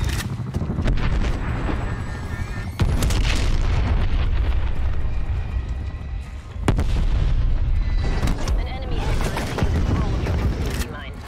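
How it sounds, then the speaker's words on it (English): Explosions from an enemy strafe run in Black Ops Cold War, a series of loud, heavy booms and rolling blasts. A voice speaks over them. "Hostile strafe run inbound."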